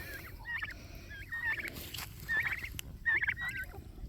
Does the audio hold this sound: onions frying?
no